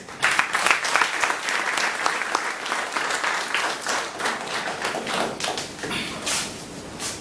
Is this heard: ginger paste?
no